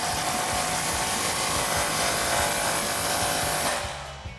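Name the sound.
impact wrench with 15mm socket tightening exhaust muffler clamp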